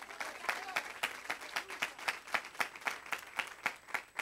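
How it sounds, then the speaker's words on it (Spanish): Rhythmic, fairly faint clapping in steady unison beats from a congregation at a women's church retreat, giving applause to the Lord, with crowd murmur beneath. "Vamos a darle un fuerte aplauso al Señor."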